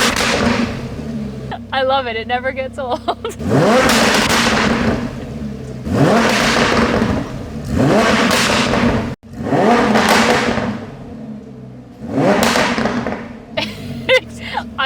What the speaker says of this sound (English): the Akrapovic exhaust, which is a little bit throatier, a little bit louder